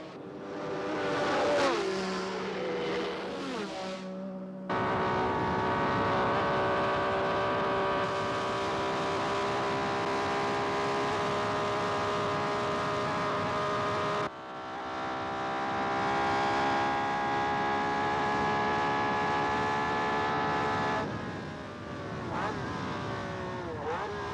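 Brabham Formula One car racing flat out in a Grand Prix, its engine a loud, sustained high-pitched howl that swells and drops as cars close in and pass, with another car's roar overlapping near the end.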